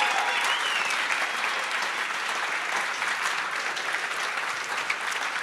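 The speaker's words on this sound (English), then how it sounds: "please give a big, big round of applause for all these people" Loud, dense applause from a large audience fills the room steadily for several seconds, with no pause and no voices standing out.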